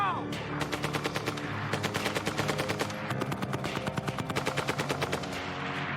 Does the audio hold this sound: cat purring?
no